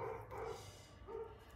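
A dog gives a few faint barks from somewhere nearby, two short woofs close together and then a third after a pause, all at low volume in an indoor room.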